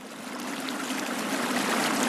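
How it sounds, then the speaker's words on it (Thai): A snowmelt-swollen river rushing in an Iberian spring forest, a dense, continuous watery hiss heard close and steady throughout, with no voices. "หิมะละลายกลายเป็นของเหลวเหมาะสำหรับดื่มและแม่น้ำก็ไหลอย่างเต็มกำลัง"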